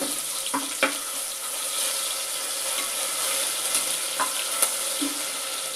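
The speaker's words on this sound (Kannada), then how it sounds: "ಬೆಳ್ಳುಳ್ಳಿ ಪೇಸ್ಟ್ನ ಹಾಕ್ತಾ ಇದ್ದೀನಿ ಸ್ವಲ್ಪ ಹಸಿ ವಾಸನೆ ಹೋಗುವವರೆಗೂ ಸ್ವಲ್ಪ ಇದನ್ನು ಹುರ್ಕೋಬೇಕು" Garlic paste fries in a pan with a steady, soft sizzle, broken by a few light clatters from stirring.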